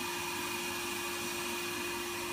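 A Podomonium Jimbo podiatry micromotor with vacuum suction runs steadily, giving a continuous, even whir with a faint tonal hum, quiet and close with no talk over it.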